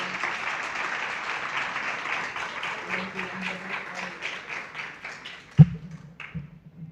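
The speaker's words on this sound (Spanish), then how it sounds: "pido un aplauso de parte de ustedes para los organizadores del evento" Applause from the audience at a national pharmacovigilance meeting, honoring the event organizers. Steady clapping continues for about five seconds, then thins into a few scattered claps, with one sharp bang near the end.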